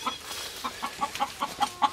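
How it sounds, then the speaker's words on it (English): A hen clucks in a nest box while trying to lay, with a steady run of soft, evenly spaced clucks at close range and no talking. "So I got one chicken over here trying to lay."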